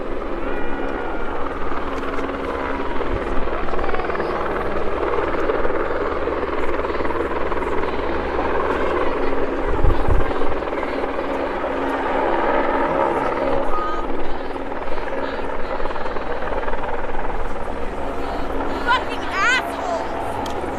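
A helicopter hovers over a protest blockade at a Line 3 pump station, its loud steady rotor drone continuing throughout with a brief thump near the middle and people talking beneath it.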